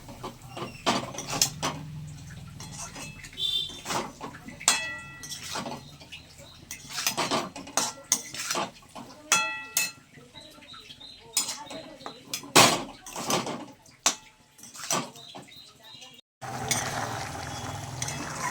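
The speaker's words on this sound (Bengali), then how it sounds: "এইবার আবার ভালো করে আমি কষিয়ে নেব।" Taro and prawns being stir-fried in a curry pan, with a spatula scraping and clinking against the metal in irregular strokes, close up, over a soft sizzle.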